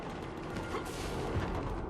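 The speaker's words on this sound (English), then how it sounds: "Gunfire. They are near." Dense, continuous bursts of gunfire and booming blasts in the video game Mass Effect 3, loud and close, with a rumbling background throughout.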